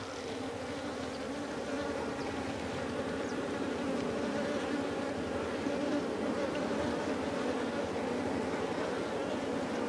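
Honeybees buzz around a raised wooden beehive box during honey harvesting, a steady droning hum that fills the whole stretch at moderate loudness, with no talk over it.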